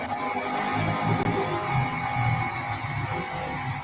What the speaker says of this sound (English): Someone drilling.